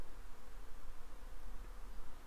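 Honeybees buzzing around a growing hive, a steady dense hum of many wings, continuous and fairly faint with no talk.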